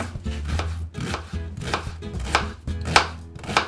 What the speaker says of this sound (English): With 2 large onions, I'll chop finely.